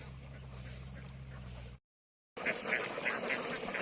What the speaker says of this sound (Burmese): ဘဲတွေကလိုက်ပြီးတော့ပြန်စုအောင်မယ်